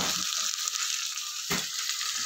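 A small knob of butter sizzles and fries in a hot pan for tomato vegetable rice, a steady close, bright hiss with a brief stirring scrape partway through and no talking.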